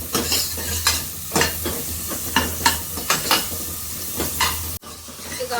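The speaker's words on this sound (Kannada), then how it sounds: "ಈರುಳ್ಳಿ ಹಾಕ್ಕೊಂಡು ಸ್ವಲ್ಪ ಉಪ್ಪು ಹಾಕ್ಕೊಂಡು ಫ್ರೈ ಮಾಡೋಣ ಫಸ್ಟು." Onions frying with salt in a hot pan, a steady sizzle with repeated scraping stirs of a spoon against the pan, close and fairly loud, no voices.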